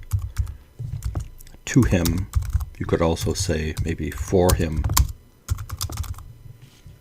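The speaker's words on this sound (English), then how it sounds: "the typing is so loud" Loud clicking keystrokes on a computer keyboard run in irregular bursts, close to the microphone, continuing under and between a person's speech.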